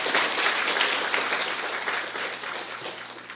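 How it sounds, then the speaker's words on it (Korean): A Sunday worship congregation at a Korean church applauds, a dense round of clapping that starts fairly loud and gradually tapers off toward the end. "우리 또 박수 한번 하겠습니다"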